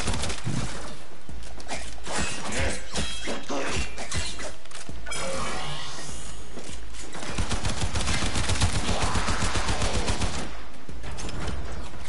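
Video game gunfire, loud rapid bursts and repeated shots filling the clip almost continuously, with crashing impacts mixed in.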